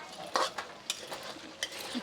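Potatoes frying in hot oil for a fasting-day sabudana dish are stirred in the pan, with a soft sizzle under several sharp scraping clinks of the spoon against the pan, close up and without talk.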